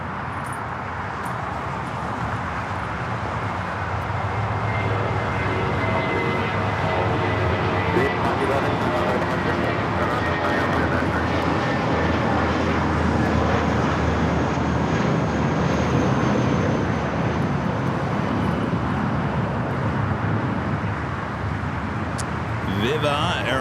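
An airliner takes off from runway 25 right at LAX, its engine roar loud and sustained throughout, with a rising whine overhead and a voice talking over it.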